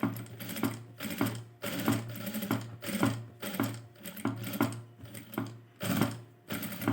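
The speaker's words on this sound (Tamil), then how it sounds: "நான் அடிக்கிறது இப்போ பின்பாகம் அடிச்சிட்ருக்கேன்" A sewing machine stitches the back panel of an embroidered blouse in repeated bursts of rapid mechanical chatter with brief pauses between runs, close and steady, with no talk.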